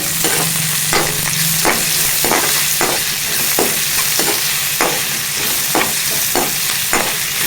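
Aloo poha is stirred in a hot frying pan, with a loud continuous sizzle broken by regular spatula scrapes and knocks roughly every half second, close up and without speech.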